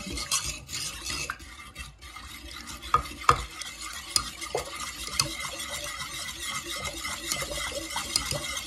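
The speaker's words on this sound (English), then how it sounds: "Stir this up." A butter and sugar mixture for homemade cinnamon rolls is stirred in a bowl, with close, irregular scraping strokes and soft clinks of the utensil against the sides, and no voices.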